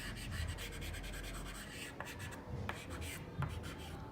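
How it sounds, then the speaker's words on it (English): Soft pastel drawing lines on paper for a portrait, a continuous close scratchy rubbing with short strokes and a few brief taps, fairly quiet and steady. "I'm going to get the light tone a bit and just add some of those lines in again"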